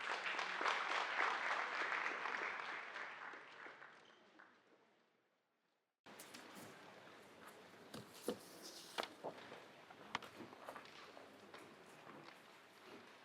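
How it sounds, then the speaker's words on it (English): An audience at a seminar on renters' rights legislation gives a round of applause that is steady and full for about four seconds, then thins and fades to silence, followed by quieter room noise and scattered knocks. "Round of applause, please."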